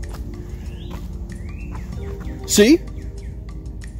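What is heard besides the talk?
bird singing on hiking trail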